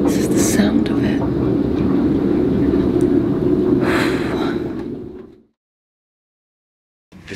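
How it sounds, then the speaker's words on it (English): Strong wind of about 35 knots roaring steadily over a boat at anchor, loud and broadband with gusty surges, then cutting out abruptly to near silence before returning. "Super windy. This is the sound of it."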